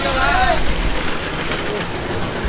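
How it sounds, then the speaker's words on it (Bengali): A train pulls in at the Burimari station platform with a steady, loud rail rumble and wheel noise. A few tonal squeals come early, and faint voices sit in the background. "জাস্ট ট্রেনটা এসে পৌঁছাইলো"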